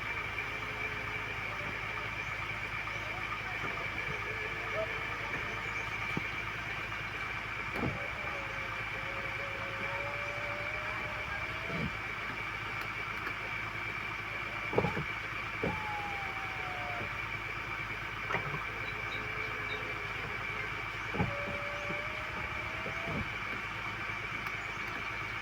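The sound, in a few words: 2021 Ford Ranger Raptor engine idling after first start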